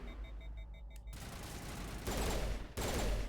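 Burst-fire pistol shots in the Mass Effect video game, rapid dense volleys that start after a quieter second and grow louder toward the end, with no talk over them.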